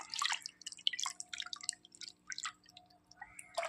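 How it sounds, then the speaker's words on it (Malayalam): Water poured from a mixer jar into a cooking pot while making Kerala-style ulli puli, heard as soft close drips and splashes in several short bursts over a faint steady hum, no voices. "മിക്സിയുടെ ജാറിൽ കുറച്ച് വെള്ളം കൂടെ ഒഴിച്ച് ചേർത്ത് കൊടുക്കുന്നുണ്ട്"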